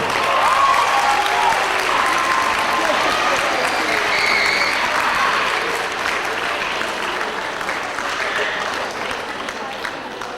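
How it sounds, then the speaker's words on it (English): Loud, sustained applause from a large audience for teachers at a high school event, a thick wash of clapping that slowly tapers slightly toward the end. "let's give a big round of applause for all the teachers in this room"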